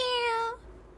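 A single short meow, apparently a storyteller's voice imitating a cat, sounds clear and close for about half a second before fading into quiet room tone.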